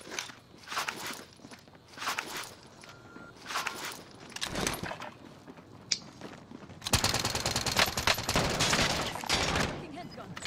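Gunfire in the battle royale game Warzone: bursts of automatic fire and single shots come in clusters, then a long sustained volley near the end, close and fairly loud over footsteps and some game sounds.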